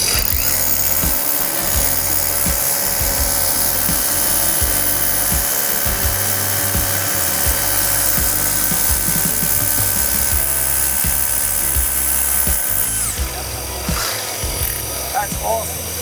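A steady, loud whirring drone of a Bosch cordless drill drilling overhead runs continuously for most of the span, cutting off near the end with brief clatter, speech faintly underneath.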